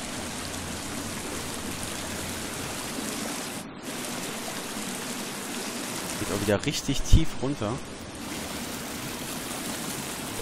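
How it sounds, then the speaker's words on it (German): A loud waterfall roars in The Forest video game, a steady dense rush of water filling the scene while someone talks over it. "Und der Wasserfall ist richtig laut."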